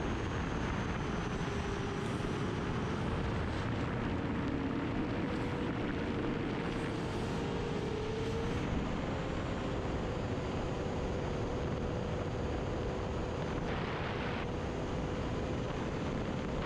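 A 7-inch FPV drone flying long range near a mountain summit, its motors giving a steady, loud whine with shifting pitch under constant wind rush, no voices.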